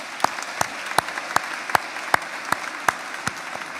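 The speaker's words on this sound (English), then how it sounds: "Please join me in a round of applause" Applause at a 2022 college graduation ceremony honoring a foundation. The recording catches a steady run of regular, sharp claps, about two or three per second, that stand out over a soft, hissy background.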